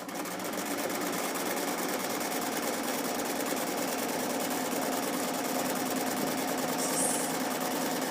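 Sewing machine stitching darts on a vintage-pattern garment, a steady, fast mechanical whir with rapid needle clatter running continuously and evenly throughout, close and fairly loud with no talking.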